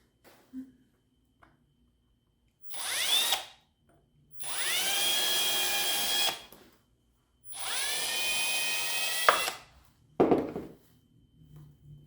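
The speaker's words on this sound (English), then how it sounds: "I'm going to drill a pilot hole right here" A power drill whirs in three sustained bursts of a few seconds each, drilling a pilot hole in wood, revving up and winding down, followed by a brief rough scraping noise; no talking.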